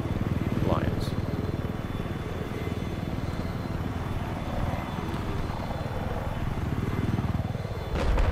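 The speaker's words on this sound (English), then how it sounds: "Loa with the helicopter kill takes out Drunken Lions" Attack helicopter in a Battlefield match on the Shanghai map, a steady droning rotor and engine roar holding throughout, loud and continuous, with commentators talking over it.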